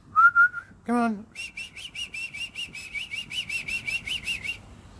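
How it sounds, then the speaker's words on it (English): A cockatoo gives a couple of whistled notes and a harsh squawk, then a long run of regular, quick chirping calls, close and clear with no talk. "Cockatoos are just awesome birds"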